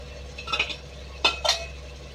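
A utensil stirs masala in a cooking pan with a few soft clinks and scrapes, over a quiet steady background hum.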